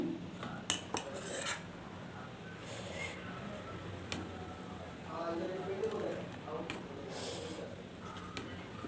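Sambar is ladled from a pressure cooker into a serving bowl in a home kitchen, making faint scattered clinks and scrapes of metal utensils against cookware while a person talks over them.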